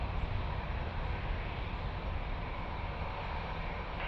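An aircraft on final approach to land on runway 02 at Lisbon Airport, heard as a steady, fairly loud broadband roar that holds even for the whole stretch with no voices over it.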